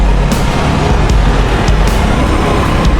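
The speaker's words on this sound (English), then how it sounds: "that sound was not good from that motorbike" A motorbike passes along a busy Madrid street, its engine noise blending into loud, continuous traffic rumble with a few brief sharp accents, close and dense, with no talking.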